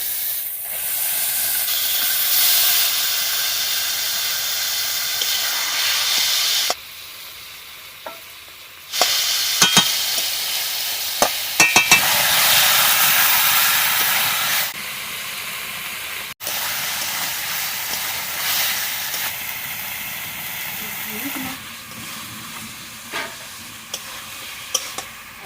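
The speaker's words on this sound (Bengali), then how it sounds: "মাংসটা এবার তুলে দিচ্ছি।" Chicken pieces for a cow-milk chicken curry sizzle and fry loudly in a pan, a dense steady hiss broken by short pauses and occasional stirring scrapes and clinks.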